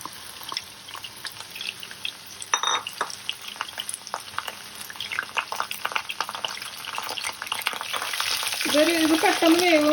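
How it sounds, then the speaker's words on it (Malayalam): Marinated chicken pieces for kung pao chicken fry in hot sunflower oil, giving a steady close crackling sizzle broken by stirring clatter, growing louder toward the end. "മാരിനേറ്റ് ചെയ്ത ചിക്കൻ നമുക്ക് വറുത്തെടുക്കാം."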